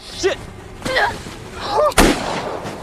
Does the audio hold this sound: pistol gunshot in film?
yes